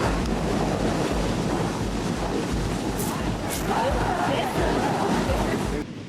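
Heavy ocean surf roars continuously as large waves pound a ship run aground, strong wind buffeting the microphone, waves surging and crashing without pause.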